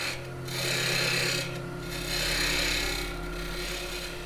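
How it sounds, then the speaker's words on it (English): A parting tool cuts a tenon into wood spinning on a lathe, giving a close, continuous rasping scrape that swells and eases in three rhythmic passes over a steady motor hum. "now with a parting tool, I'm going to make a tenon on the end so that I can put that into my collet chuck"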